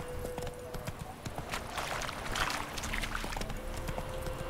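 Roach the horse walks in The Witcher 3, with steady clip-clop hoofbeats in a regular rhythm over a constant outdoor game ambience and music, no talking.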